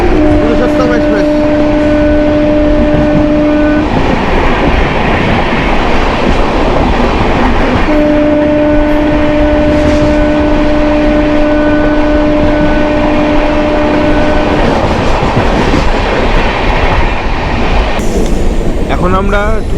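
Train 12801, the Puri–New Delhi Purushottam Express, thundering past at close range, a loud continuous roar with rhythmic clickety-clack of wheels over rail joints and two long horn-like tones, under occasional talk.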